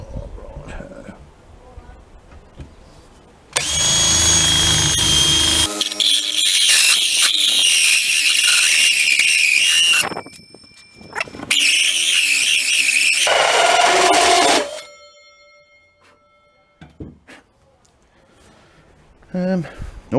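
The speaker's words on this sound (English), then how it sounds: "I'll drill down with the hole saw just enough to get these sort of slotted in" A power drill with a hole saw grinds loudly in two long bursts, whining and rasping through a concrete weight block, with quieter handling sounds between and after, outdoors in wind.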